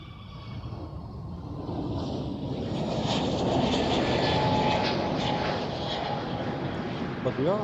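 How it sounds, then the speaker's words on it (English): An Atlas Air Boeing 747 departs Amsterdam Schiphol as a loud, steadily building jet engine roar. Wind buffets the microphone and a voice talks over it. "The 747 from Atlas Air departing on us here."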